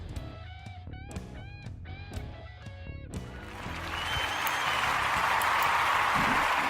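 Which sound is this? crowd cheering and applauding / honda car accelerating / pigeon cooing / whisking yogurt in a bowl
crowd cheering and applauding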